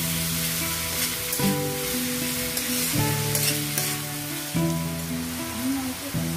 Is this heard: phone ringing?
no